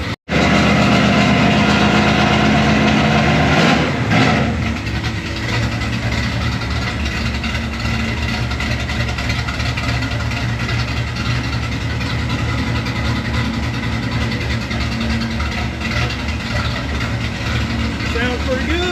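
A Ford F100 truck's carbureted engine with mufflers idles steadily and loudly after a brief early rev, a deep, even rumble that runs throughout while voices speak faintly over it.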